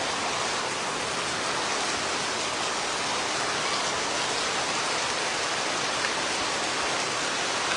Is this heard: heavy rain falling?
yes